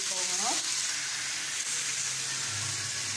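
Rice with green fava beans fries in a pan with spices, giving a loud, constant close sizzle and hiss with brief stirring scrapes, steady throughout and without speech.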